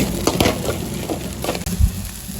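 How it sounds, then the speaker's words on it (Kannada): Soaked lentils fry in a pan for green tomato chutney, a close, steady sizzle with occasional scraping stirs and a soft thud partway through. "ಇವಾಗ ಬೇಳೆ ಹಾಕಿದ ನಂತರ ಒಂದು 2 ನಿಮಿಷ ಹಂಗೆ ಫ್ರೈ ಮಾಡ್ಕೊಳ್ತಾ ಇದ್ದೀನಿ."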